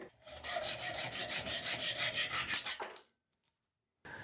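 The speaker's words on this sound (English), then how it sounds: "I'm just going to trim off a little bit of the hook." Metal planter hook being trimmed with a hand tool, a steady rhythmic rasping, sawing stroke repeated close up for about three seconds, then stopping into silence before a brief clatter at the end.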